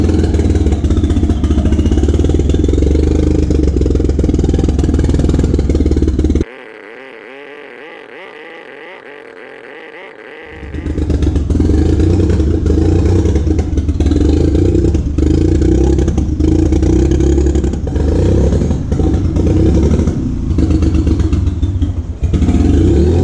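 Mitsubishi 3000GT VR4 engine running loud and close during ignition timing tuning, a rough steady drone that briefly drops to a quieter idle before surging back up with uneven revving and clatter.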